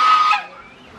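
Guinea hens at a lake give one loud, harsh nasal call that falls away within half a second, close by and alone.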